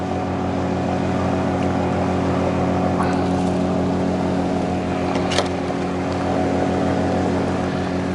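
Steady drone of a Hidea 5 hp outboard motor pushing a small boat across waves, loud and close throughout with a constant hum, a couple of brief knocks over it.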